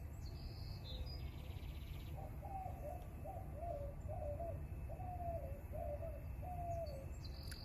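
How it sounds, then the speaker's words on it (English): Doves cooing outdoors on an overcast day, a steady run of soft repeated coos at moderate distance over a constant low background rumble, with no talk. "The doves are chattery today."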